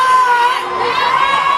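A concert crowd at a dancehall performance shouting and cheering, a dense, loud wash of many voices sustained throughout a brief moment.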